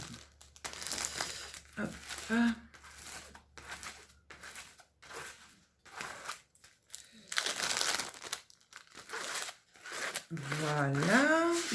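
Paper crinkles and rustles in bursts while a package is unboxed, loud and close. A person talks in French between and over the crumpling sounds.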